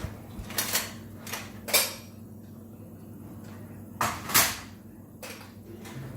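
A spoon drawer in a modular kitchen slides open and shut with several soft clunks and a brief rattle of cutlery, spaced irregularly and heard close up in a quiet room.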